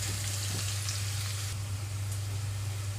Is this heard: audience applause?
no